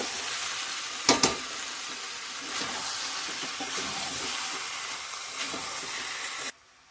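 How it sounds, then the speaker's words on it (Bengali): Boiled jackfruit, fried potatoes and prawns stir-fry with spices, giving a steady hissing sizzle with a couple of sharp utensil clinks near the start and soft stirring throughout. "এবারে মশলার সাথে 2-1 মিনিট আরও নাড়াচাড়া করে কষিয়ে নেব।"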